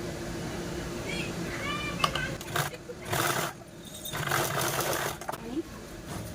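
A sewing machine stitches a blouse piece cut from a saree border, running in short bursts of whirring rattle between pauses while someone talks over and between the runs.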